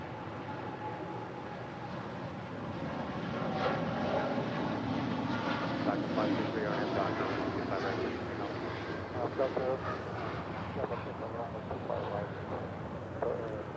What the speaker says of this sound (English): That is Turkish Airlines Flight 180 departing to Istanbul on a 787-9 Dreamliner.